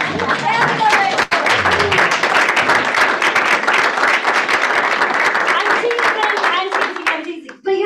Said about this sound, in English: I want everyone to stand up and give me a round of applause. Standing ovation.